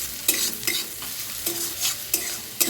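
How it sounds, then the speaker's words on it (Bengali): Onions frying in a pan for a potato curry (aloo dum), reddening with a little salt and sugar, stirred in repeated scraping strokes roughly every half second over a steady close sizzle, no talk. "পেঁয়াজটা একটু লাল লাল করে ভাজা হচ্ছে"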